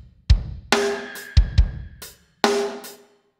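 Processed snare hits from a Yamaha Manu Katché signature snare sample, played alone: five or six punchy, close hits in an uneven pattern, each a sharp crack with a short ringing tail and bright sizzle.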